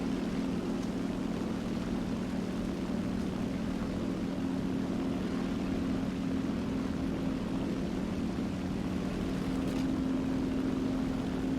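An early propeller plane's engine in War Thunder hums steadily as it takes off, a constant droning tone with a buzzing undertone, loud and unbroken from start to finish.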